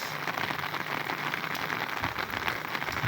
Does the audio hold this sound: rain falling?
yes